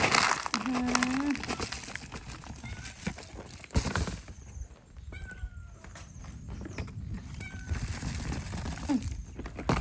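A cat meows a couple of times amid rustling and crinkling noises close by, with a person's voice softly present in the background; food being poured out in an abandoned house.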